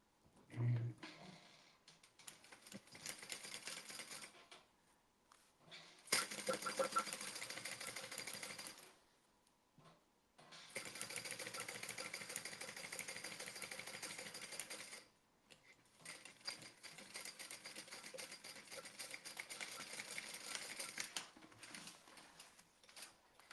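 A sewing machine stitches a bag's lining main panel in long, fast, steady runs of whirring needle clatter, stopping briefly between seams and then starting again, close and fairly quiet with no talk over it.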